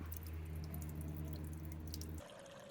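Water draining out of a Brewzilla brewing system after a rinse, a quiet steady trickling and gurgling flow under a low motor-like hum that cuts off near the end.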